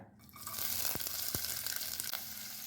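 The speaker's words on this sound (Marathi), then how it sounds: "या तेलामध्ये घालूया कांदा" Onion dropped into hot oil in a wok (kadhai) for a mixed vegetable dish, sizzling up at once into a loud, steady hiss, with a couple of sharp spoon knocks partway through.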